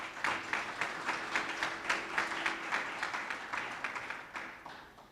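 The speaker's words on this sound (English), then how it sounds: "I'd like you to give them a round of applause." An audience claps steadily in a round of applause for visiting Cuban engineers at a government welcome event, the claps fairly distant and soft, holding an even rhythm before fading slightly at the end.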